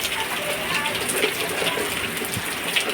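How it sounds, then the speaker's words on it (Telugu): Heavy monsoon rain pouring down in a dense, unbroken hiss, with water splashing and gushing close by. "ఇదిగోండి వర్షం బాగా కురుస్తుంది"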